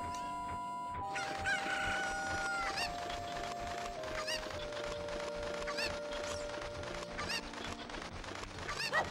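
Cucco chickens in Zelda: Ocarina of Time crow and cluck repeatedly, a loud game-sound cackle of several birds running continuously with no talk.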